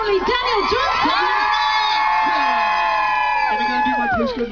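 A large crowd at a live music show in Scarborough cheers, whoops and shouts continuously, loud and close, with children's voices among the roar for a pop singer.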